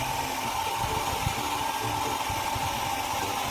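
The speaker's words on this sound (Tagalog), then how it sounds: "ginagawa natin itong hair blower para kapag pinansya na natin yung hair natin" A hair blower runs continuously at close range, a steady whooshing drone with a constant motor whine while drying hair during a keratin treatment, with no speech.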